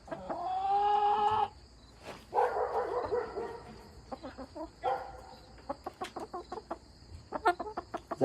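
A chicken's drawn-out call opens, then a string of short, close clucks and pecking sounds follows at an irregular pace.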